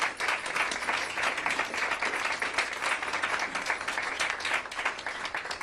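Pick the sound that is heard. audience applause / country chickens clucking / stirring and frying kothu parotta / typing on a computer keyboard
audience applause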